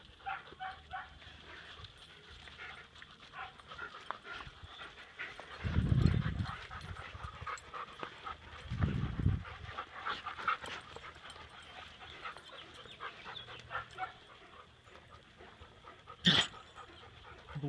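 Dogs pant and sniff close by, with two louder bursts of breathy snuffling and a sharp short noise near the end.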